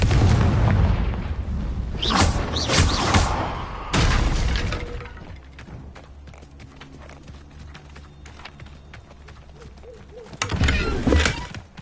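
A Confringo fire spell in Hogwarts Legacy bursts with booming blasts, two loud hits early on, a quieter rattling, crackling stretch, then another heavy blast near the end, with no speech over it.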